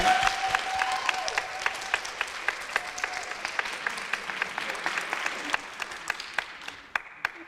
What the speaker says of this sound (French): J'aimerais d'abord qu'on applaudisse ces artistes ce soir qui sont venus nous prouver leur talent.